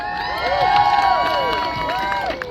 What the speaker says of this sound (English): Can we get another round of applause for Tiana